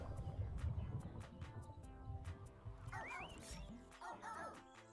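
Cartoonish dog barks from the video game Phogs, short repeated yips and woofs alongside playful whistling and squeaky game effects, moderately quiet and close.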